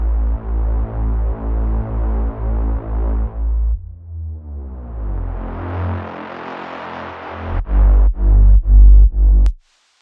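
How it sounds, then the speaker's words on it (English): A long deep house synth bass fill made in Serum. Steady pulsing low notes give way to a long sweeping pitch bend from a higher octave, then heavy thumping bass hits close the phrase, loud and alone. "the second drop starts with this long bass fill"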